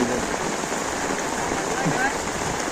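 Steady rain pours onto a flooded street near Kopar station in Dombivli, a dense, even hiss filling the scene without a break.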